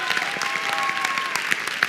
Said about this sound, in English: let's give him a nice big round of applause and cheerful welcome.